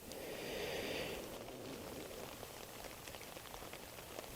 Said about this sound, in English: Rain's just started coming down now.